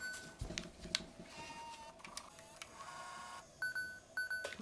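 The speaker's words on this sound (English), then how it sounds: "So I'm going to go ahead and open it and eject and put it back in." A digital camcorder's tape mechanism, showing a C3123 error, whirs and clicks softly as it opens and ejects a tape, with a few short electronic beeps near the end.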